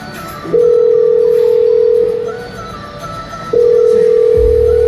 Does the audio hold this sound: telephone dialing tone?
yes